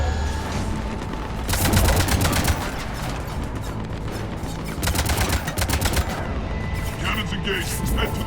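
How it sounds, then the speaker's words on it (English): Ship cannons in Mass Effect 3 fire in two bursts of rapid booming volleys over a constant rumbling game soundscape, with a short lull between them. "Cannons engaged."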